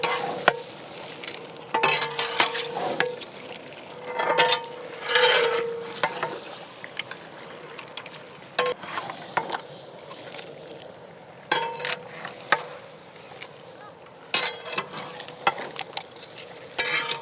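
Seafood coated in masala being stirred in a large pan (chatti), making repeated loud scraping and clattering strokes in irregular bursts over a low sizzle, with no voices.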